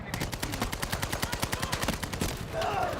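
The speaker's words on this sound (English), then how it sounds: "he's using a Thompson as well" Thompson submachine gun firing in a Battlefield video game, a rapid sustained burst of about twenty-five evenly spaced loud shots over two and a half seconds, then a steady noisy tail.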